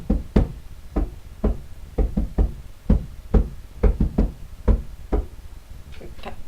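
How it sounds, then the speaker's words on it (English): Sharp knocks on a wooden desk, about a dozen taps in an uneven rhythm, some in quick pairs, close and clear. "it came over to the desk, which is obviously, like I said, by that wall, and tapped like this"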